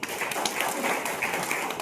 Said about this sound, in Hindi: इसलिए एक बार उनके लिए जोरदार तालियां।